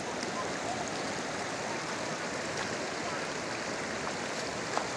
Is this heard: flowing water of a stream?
yes